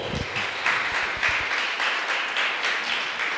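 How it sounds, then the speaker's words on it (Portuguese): A church congregation applauding during a Portuguese-language service, a sustained, even patter of many hands filling the room with steady clapping from start to finish. "Você pode aplaudir o Senhor?"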